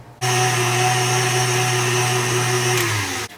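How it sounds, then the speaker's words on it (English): A stand mixer beats egg whites at high speed, a loud, steady motor whine that starts abruptly, holds for about three seconds, then winds down and stops, close up with no voices. "I'm gonna put this in my stand mixer"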